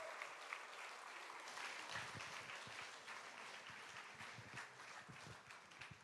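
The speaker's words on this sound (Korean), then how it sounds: "뜨거운 박수를 한 번 더 올려드리겠습니다." Warm, sustained applause from a church congregation after a drummer's performance and testimony, the crowd clapping evenly and fairly distant, with a few louder near claps and low thumps mixed in.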